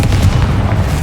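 A Confringo blasting spell in Hogwarts Legacy erupts as one heavy, close, booming blast with a deep rumbling body that fills the whole short moment, loud and alone without talk.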